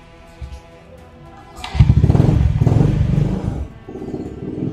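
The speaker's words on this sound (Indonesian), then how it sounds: "mari kita cek sound sama cek listrikannya." A motorcycle with a lightly drilled-out stock exhaust fires up, then revs in a loud, raspy burst up close before settling back to a rough, lumpy idle.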